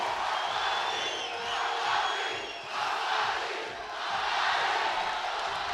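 A large basketball crowd at the FIBA 3x3 World Cup 2025 final roars and cheers steadily, with the noise swelling and dipping in waves throughout.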